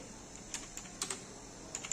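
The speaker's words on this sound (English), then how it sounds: "So you can see I am typing" Keys tapped on a computer keyboard while writing in MS Word, a handful of light, uneven clicks over a steady faint hum, close and fairly quiet.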